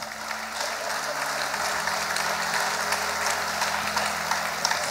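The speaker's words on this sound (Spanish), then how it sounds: "le damos un aplauso al Rey" A church congregation applauds during a Spanish-language sermon, a full, lively burst of clapping with a faint low hum of instruments or sound system underneath, sustained throughout.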